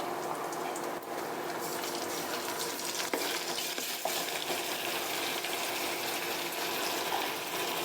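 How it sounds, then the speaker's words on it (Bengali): Onions browning in hot oil in a pan as ginger and garlic paste are added for a chicken curry with moong dal, giving a steady close sizzle with occasional stirring scrapes and clinks throughout. "তো আমার পেঁয়াজগুলো হালকা ব্রাউন হয়ে আসছে। তো এখানে আমি দিয়ে দেবো আদা বাটা, রসুন বাটা"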